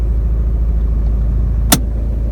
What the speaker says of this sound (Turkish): Bakın araba titreyerek kalkıyor.